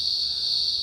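Cicadas in a garden buzz in a loud, continuous high-pitched drone that holds steady without a break.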